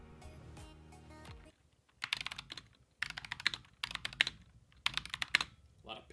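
A Razer Huntsman mechanical keyboard typed on in quick bursts, crisp clacking keystrokes with a pinging, rattling edge, close and clear, following a brief stretch of other sound at the start.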